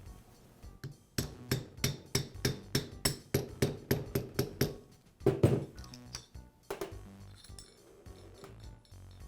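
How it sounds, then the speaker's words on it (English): Socket tapping a bearing onto the armature shaft of a DeWALT angle grinder under repair: a steady run of about sixteen sharp metallic clinks, close and evenly spaced, then a heavier knock and a few softer scrapes. "Then I'll place the bearing onto the armature shaft and use a socket to tap"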